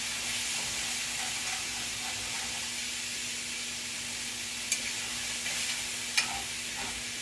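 Homemade spaghetti ingredients sizzle steadily in a pan while being stirred, a constant bright frying hiss with a couple of soft clinks from the utensil and no talking.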